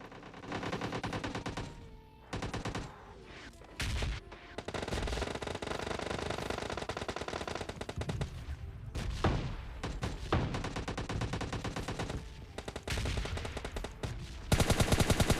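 Gunfire in the mobile battle royale game PUBG Mobile Lite crackles in loud, rapid automatic bursts separated by short pauses, with a final heavy burst at the very end.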